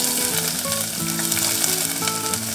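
Cumin and mustard seeds crackling in hot mustard oil, a loud continuous sizzle with dense popping throughout and no talking.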